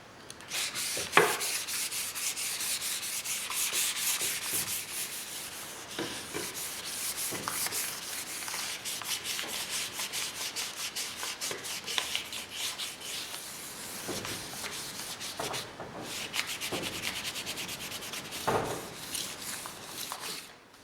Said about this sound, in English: it's just had its quick burnish with the pre-used 1200 grit wet and dry with a little bit of oil on it